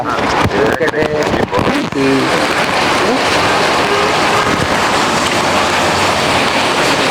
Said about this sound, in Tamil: மழை பெய்யுது பாத்தீங்களா?